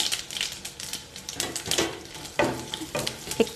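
Radish pieces hit a hot mustard seed and chili tempering, giving a crackling, spitting sizzle broken by quick stirring scrapes, close up and fairly loud, with no voices.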